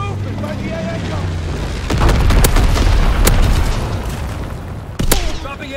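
Incendiary bombing run in the Call of Duty WW2 game, with deep booming explosions rolling one after another, sharp blasts cutting through a low rumble, and a radio-style voice talking underneath.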